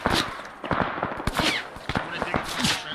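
Gunfire in a first-person shooter game, shots fired into smoke, comes as a quick run of sharp cracks and bursts spread irregularly through the stretch, loud and close, mixed with bits of game noise.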